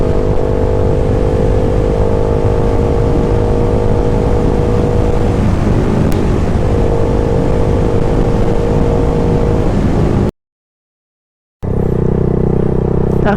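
Suzuki Gixxer 155 motorcycle fitted with an SC Project exhaust, cruising in fifth gear on a Zambales road: a loud, steady engine drone with wind rush throughout, cutting out briefly near the end before resuming.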